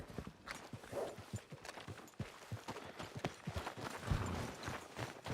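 Horse hooves clip-clop at a walking pace in the Red Dead Redemption video game, a steady rhythm of soft close thuds that carries on with no break.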